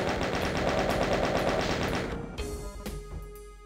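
A chaingunner enemy in Doom 2 fires a sustained rapid burst of loud, rattling gunfire that continues steadily, then breaks into a few separate shots near the end.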